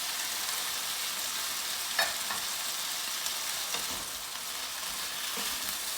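Potatoes and red pepper fry in a pan with a loud, continuous hissing sizzle, broken by a few soft knocks and scrapes as the pieces shift.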